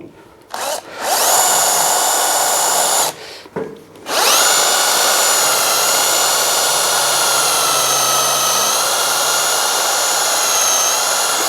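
A fine 3-stone cylinder hone spun by an electric drill deglazes and cleans rust from a Fowler PA1 engine bore, a steady loud whine with two brief pauses early on, then running continuously.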